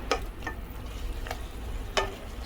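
Malabar spinach cooks with mustard paste in a pan, giving a low frying hiss. Three or four short, close spatula scrapes break it at irregular moments, with no voices.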